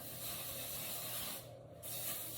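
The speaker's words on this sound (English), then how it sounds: "Now what I'm gonna do is the quick hairspray." Hairspray hisses from a can onto curled hair in a steady, soft spray close by, with a brief pause partway through before the hiss resumes.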